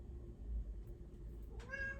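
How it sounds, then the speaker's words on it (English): A pet cat gives a single rising meow indoors, faint and fairly close, over a steady low background hum with no talking. "Oh, and my cat's gotten active, so my cat may talk to me."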